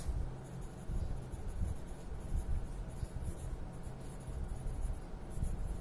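Pen or marker writing a class 3 math subtraction solution on paper or a board, a steady close scratching that runs continuously for several seconds with no talk.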